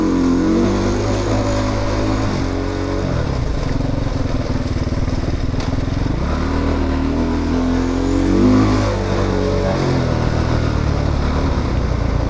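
A Husqvarna TC 450 off-road motorcycle engine runs loud and close, its throttle blipped in repeated revs that rise and fall over a steady idle.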